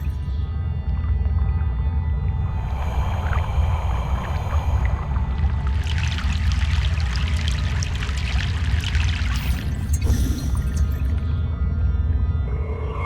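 A river crossing by boat in Egypt, from Broken Sword 3: The Sleeping Dragon, gives a continuous low engine-like drone with sloshing, pouring water, a surge of bright splashing toward the middle and a quick splash near the end.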